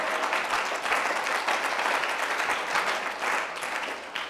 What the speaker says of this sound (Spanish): Dale un aplauso al Señor porque Él es bueno.